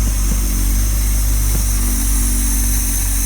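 The engine of a 1977 Dodge B200 van runs loud and close in a low steady drone, struggling to idle with a faint uneven pulse and no talk.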